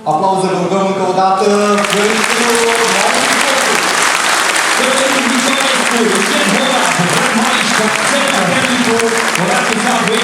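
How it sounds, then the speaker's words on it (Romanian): A large audience at a sports awards gala for Romanian motorsport champions breaks into loud, sustained applause that fills the hall, while an announcer's voice speaks over the start. "Aplauze, vă rugăm încă o dată pentru"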